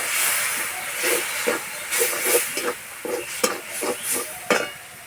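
A little water hits chili and turmeric powder frying in a pan, raising a loud, steamy sizzle with repeated sharp hissing bursts as the spices are stirred, close and with no speech.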